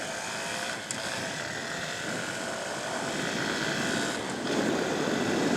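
A Honda Super Cub C125 motorcycle engine drones steadily while riding in third gear, mixed with heavy wind rush, rising slightly in loudness near the end.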